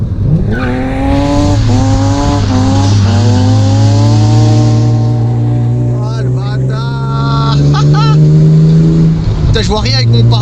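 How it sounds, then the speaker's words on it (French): A BMW E36 climbs a mountain road with tired old suspension struts, its engine droning loud and steady while scattered knocks and rattles from the rear break through, clustering in the second half. "les bruits chelous derrière c'est normal, c'est les anciens combinés qui tapent partout"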